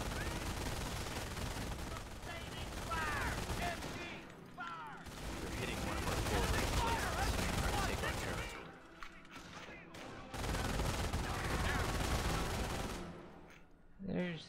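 Company of Heroes battle in Normandy: sustained machine gun bursts rattle loudly with scattered rifle shots and distant thuds, while unit voice lines and a commentator talk over the gunfire.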